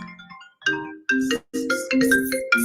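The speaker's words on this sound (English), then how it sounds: "phone started to ring" Mobile phone ringtone, a bright melodic electronic tune in repeated bursts with short gaps, close and clear, playing alone.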